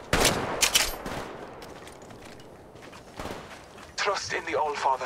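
Bursts of automatic gunfire from an Apex Legends Mobile match, close and loud, come at the start and again around the middle, with a callout voice and other game sounds over a steady backdrop.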